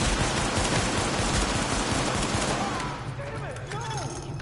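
Heavy automatic gunfire from an AK-47 in the video game The Division, a loud dense burst through the first half that thins out, leaving scattered fainter shots and someone talking over it.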